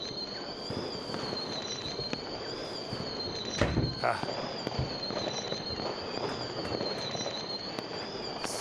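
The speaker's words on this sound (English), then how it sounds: "Fireworks." New Year's fireworks crackle and pop at a distance over a steady warbling tone, with one louder burst near the middle and a brief exclamation from a voice.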